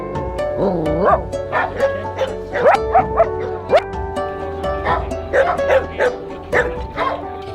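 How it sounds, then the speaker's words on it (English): A big pack of dogs arriving with a travel group at a mountain hut, sounding as a loud, close chorus of overlapping barks, yips and whimpers in irregular bursts that keep coming throughout. "a travel group is arriving, and they all have dogs. So it's like, I don't know, 20 plus dogs"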